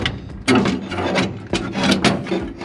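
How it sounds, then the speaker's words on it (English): A tool scratches the zinc coating off a brake pedal push rod for a 1966 Holden VC wagon, making harsh, close rasping strokes in a few loud bursts with brief pauses between them. "And this, with my third arm, I'm going to scratch all the zinc off."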